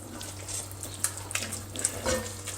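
A spoon stirs leek pie filling with cayenne and cream in a pan, giving soft scraping and light sizzling with a few sharper clinks, close and moderately quiet, with no voices.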